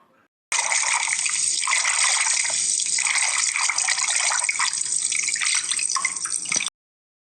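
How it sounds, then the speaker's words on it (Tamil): Water poured over a girl's head during a coming-of-age bathing ceremony: a steady, loud splashing gush runs unbroken for several seconds, then stops abruptly. "அதான் தலைக்கு ஊற்ற ஆரம்பிச்சாச்சுல"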